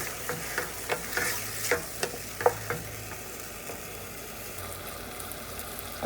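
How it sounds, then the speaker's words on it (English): Peas and heavy cream simmer in a pan for shrimp risotto, giving a steady soft bubbling sizzle punctuated by scattered pops and a few light stirring clicks, with no talking. "I'm gonna let that simmer for about a minute or two."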